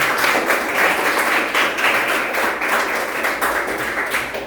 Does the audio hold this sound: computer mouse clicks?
no